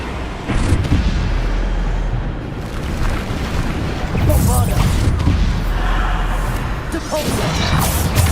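Spell impacts from the Descendo charm in Hogwarts Legacy land as heavy crashing booms, one after another, over a dense rumbling game mix with a voice calling out throughout.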